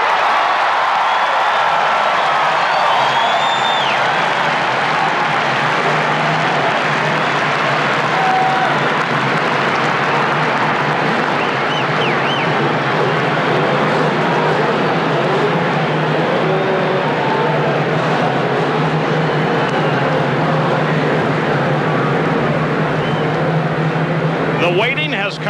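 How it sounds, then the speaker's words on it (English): Race car engines fired up on the straightaway at the 1994 Indianapolis 500, a continuous loud droning roar with a steady low hum and crowd noise, lasting throughout with no pauses. "The engines are started on the straightaway at Indianapolis."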